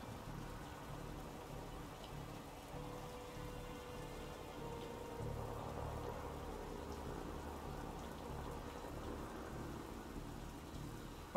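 Steady rain in a video game pours down evenly, a dense hiss of drops with a low rumbling undertone throughout.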